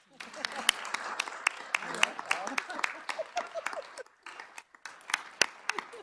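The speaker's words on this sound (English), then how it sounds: "I think we should clap for that." An audience at a book launch claps after a donation of books to TDSB students, with scattered, sharp individual claps that come and go while voices talk over them.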